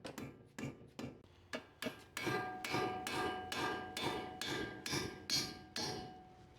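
A soft-blow hammer strikes a coilover bolt about a dozen times in a steady rhythm, each blow a sharp, close, ringing knock that comes quicker and louder as the series goes on.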